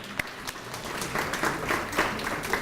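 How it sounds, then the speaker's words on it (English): Guests at an awards ceremony clap for an absent honoree, starting with a few scattered claps and quickly building into fuller, fairly close applause from the room. "let's clap for him anyway"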